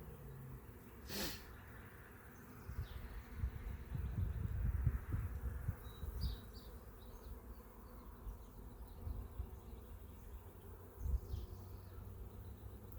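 Honeybees in a busy, growing hive give off a faint, low, steady hum with scattered buzzes and a few soft bumps nearby.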